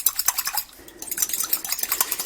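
A fork beats stock powder into a jug of water, making rapid, uneven metallic clinks and taps against the container in quick bursts with a brief pause midway. No one speaks.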